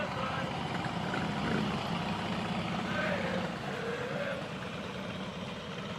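Steady rumble of motorcycles, including a trike, rolling past at a slow, even pace in a Veterans Day parade in Osage Beach, a continuous low drone with no sharp changes, fairly close and moderately loud.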